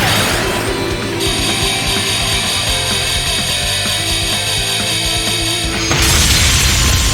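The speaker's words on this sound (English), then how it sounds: "Mirror devices activate. Orbital laser fire." Orbital laser fire from mirror devices in the Trails of Cold Steel II boss battle lands as a deep boom at the start. A second loud, broadband blast erupts near the end, with sustained tonal music and effects droning between the two hits.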